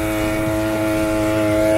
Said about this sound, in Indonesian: Ini kita pakai mesin potong rumput